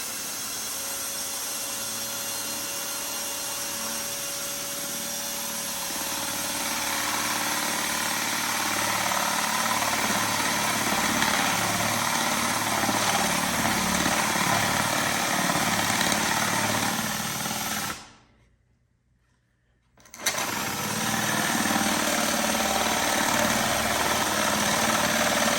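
A small engine on a skull-mounting job turns over and settles into a steady idle with broad vibration. It briefly cuts out near the end and then resumes running, with no talk over it.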